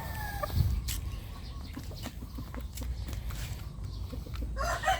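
A young rooster (stag) in a chicken coop gives scattered soft clucks and short calls, fairly close, with rustling and bird noise around and no talking.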